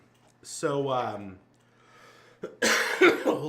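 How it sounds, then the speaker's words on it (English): A couple of harsh, close coughs break out, separated by a short pause, the second burst longer and louder with a raspy throat-clearing quality. "Coughing."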